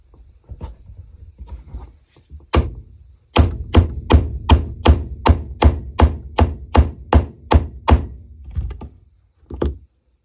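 Hammer blows drive an 1/8 inch steel punch against an SKS rifle part, one isolated strike followed by a steady series of about ten loud, sharp metallic hits roughly every half second, then a final blow.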